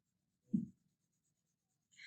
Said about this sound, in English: I'm using a colored pencil